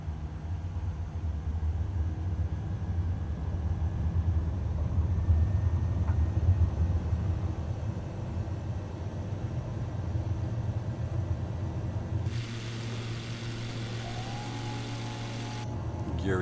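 A light aircraft engine, an NX Cub or VL-3 in a flight simulator, drones in a steady low rumble through the takeoff roll, shifting in tone partway through as the plane climbs away.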